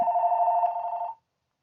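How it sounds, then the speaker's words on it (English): A telephone bell rings once in a steady, close electronic trill lasting about a second before cutting off abruptly into silence. "Sorry about that, phone rang."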